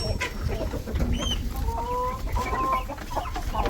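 Several chickens, including a lavender Orpington, a brown rooster and hens, clucking and murmuring close by in a fowl run, with a few higher chirps over a steady outdoor background.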